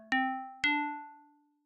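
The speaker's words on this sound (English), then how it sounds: "This could often be called like a bell piano type of sound." Two FM-synthesized bell-piano notes from Ableton Operator ring out, each with a sharp metallic strike and a bright harmonic tail that decays smoothly, the second sounding half a second after the first, clean and alone.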